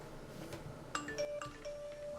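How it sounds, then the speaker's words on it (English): A mobile phone gives a short run of bright electronic ringtone notes, faint beneath low background noise during an online talk show. "my phone is going nuts"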